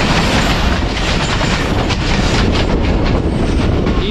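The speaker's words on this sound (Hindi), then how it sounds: "भाजन ये रावी एक्सप्रेस ही थी 60 डब्बों के साथ ZU20 के साथ शोरकोट और लाहौर के दरमियान चलने वाली, ये थी रावी एक्सप्रेस।" A Ravi Express passenger train with 60 coaches rushes past very close and loud, its wheels clattering rhythmically over the rails in a continuous roar.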